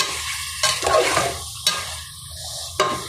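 Bhaila fish sautés in spice masala in a pan, giving a steady sizzle and frying hiss broken by a few sharp spatula scrapes and stirring knocks, close and loud with no voices.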